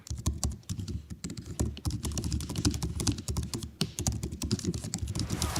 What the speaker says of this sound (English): you can pound away on this keyboard on your lap or at a weird angle on the couch